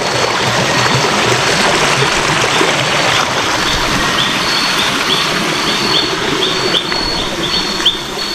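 Steady rushing of a flowing river in a forest fills the scene, a constant broadband wash of water with faint bird chirps above it.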